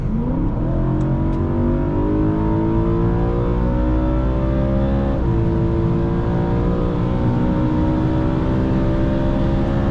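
A 2012 BMW M3 with a 4.0 V8 pulls hard at full throttle, its engine note climbing steadily and loudly through the revs, with a brief dip around a gear change before rising again; no one talks.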